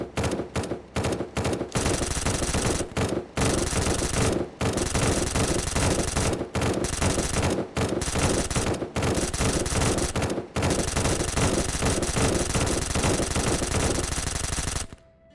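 Automated turrets in SurrounDead hammering away at a boss, long loud bursts of rapid machine-gun fire broken by short pauses, sustained for over fourteen seconds before cutting off.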